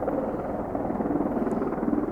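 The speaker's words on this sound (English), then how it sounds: "That helicopter came right over above me" A helicopter passing right overhead at night in a British countryside, a steady loud rotor drone with rhythmic chopping pulses, continuous and close, no talking.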